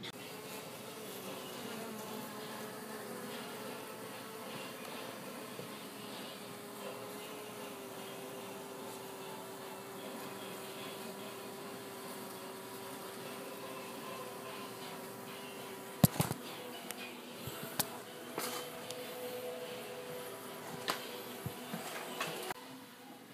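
Bees buzzing inside an apartment during a beehive removal, a faint continuous droning hum with occasional sharp knocks and clicks toward the end, no talk.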